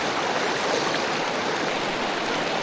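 A remote woodland stream and waterfall in the Poconos rushes in a steady, dense, close-up roar of falling and splashing water, continuous and even throughout with no voices.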